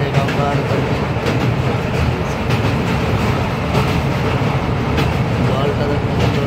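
A long-distance express train, the 12129 from Pune, rolls into Howrah station beside the Ganges, its steady loud rumble and rattle of carriages continuous throughout at close range.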